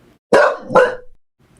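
A white dog in a children's story lets out two loud, close barks in quick succession, then falls silent. No voices are heard alongside.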